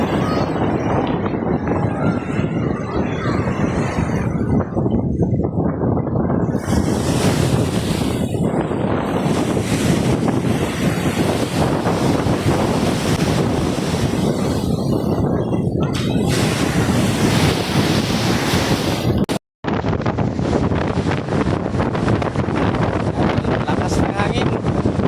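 Strong wind batters the microphone on a rough seaside shore with waves, a loud buffeting roar that surges and dips throughout, cut by one sudden brief dropout near the end.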